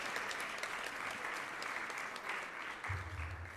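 Steady applause from an audience at an ISKCON New York fundraiser, honoring a donor, heard as a quiet, even patter of many hands clapping throughout with no break.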